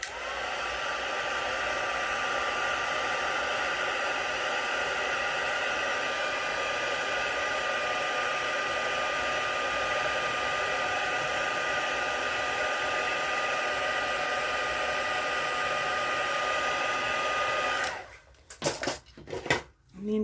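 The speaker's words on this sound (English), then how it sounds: "Just give them a little bit of a zhuzh with my heat tool." A heat tool blows a steady, loud whoosh of hot air over damp die-cut paper for about eighteen seconds, then cuts off and leaves a few clattering handling knocks.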